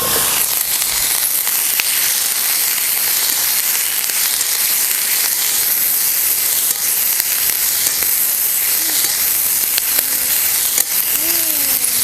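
Green chilies frying in hot oil with cumin seeds and whole unpeeled garlic cloves, a steady dense sizzle that holds evenly throughout, close and loud, with no talking.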